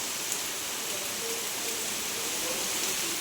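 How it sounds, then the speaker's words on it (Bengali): Heavy rain pours down outside a home in a steady, even hiss of falling water, faint and constant throughout with no other sound standing out. "এদিকে বৃষ্টিও হচ্ছে মুষলধারে"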